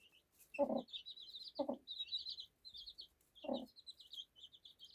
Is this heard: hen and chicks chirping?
yes